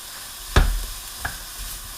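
Meatballs for wedding soup sizzle in a pan with a steady soft hiss, broken by one sharp thump and a lighter click nearby.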